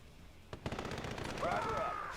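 Gunfire from units in Red Alert 2, a quick burst of rapid machine-gun shots followed by a dense rattling volley, with a synthetic warbling tone and faint talk underneath.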